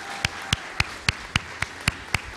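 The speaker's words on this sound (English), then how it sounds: "We're going to be doing a lot of clapping today" Applause at the SpaceX Nasdaq opening bell event in Times Square, New York, heard as evenly spaced sharp claps, about nine in a steady rhythm, close and fairly loud over a constant crowd background.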